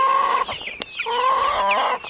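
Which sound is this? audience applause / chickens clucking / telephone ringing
chickens clucking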